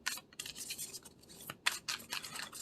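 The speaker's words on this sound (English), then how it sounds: "That's me shuffling like a mad woman." Tarot cards are shuffled vigorously in quick bursts, crisp papery riffling and scraping heard up close, with short pauses between rapid runs.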